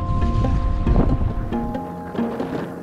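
Strong wind buffets a small fishing boat tossing at sea off Tanjung Pala, Indonesia, a loud continuous roar and rumble with a steady droning hum underneath, close to the microphone.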